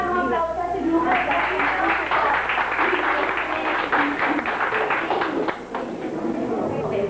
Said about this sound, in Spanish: Vamos a dar un aplauso a este grupo.